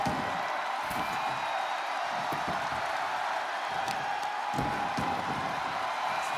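Arena crowd noise from the wrestling video game WWE 2K25, a steady wash of cheering and whooping that holds at an even level throughout, with scattered louder swells and no clear talk over it.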